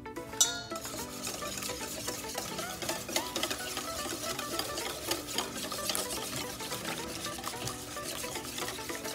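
Donut batter with vanilla extract and eggs being mixed in a bowl, a continuous soft, wet stirring with small clicks of the utensil, fairly quiet and with no talking.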